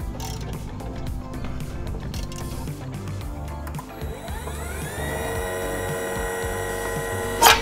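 Boat lift winch mechanism creaking and ratcheting as the cable is freed after loosening a set bolt, followed by a steady rising hum and a brief sharp clank at the end, close and fairly quiet.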